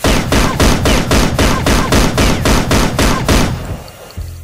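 A pistol fired repeatedly into the air, about a dozen loud, evenly spaced rapid shots in a steady burst, close and sharp, ending abruptly before a low rumble.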